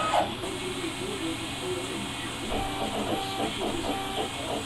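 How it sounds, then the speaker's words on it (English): A homebuilt CNC machine running a pecking cycle, with a steady mechanical hum and repeated short whirring motor pulses at close range. "here's my CNC machine, all set up to go."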